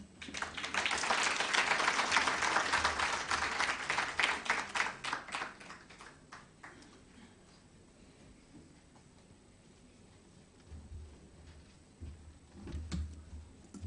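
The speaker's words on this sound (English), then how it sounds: "Let's give another round of applause to Shaheen." An audience applauds at the end of a speech during a World Breastfeeding Week event. The clapping is dense and steady, then thins into scattered claps and fades to quiet before a few more claps return.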